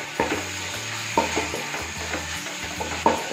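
Ginger-garlic paste is stirred in a hot frying pan for Manjali biriyani, sharp scraping strokes recurring roughly every second over a steady low sizzle, close and clear with no talking.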